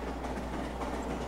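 A train rumbling in the video game Garry's Mod, a steady low roar with faint rhythmic clacking of wheels on track, continuous and fairly quiet throughout.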